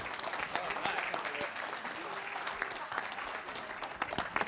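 Applause from the crowd at a student auction held by an auctioneering college, fairly faint and steady, with scattered louder claps and a few voices mixed in.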